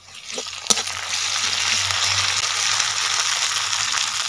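Ginger garlic paste frying in a pan for a fish curry, cooked in a rural village kitchen: a steady, close sizzle with a brief clatter near the start, continuing without a break and with no talk.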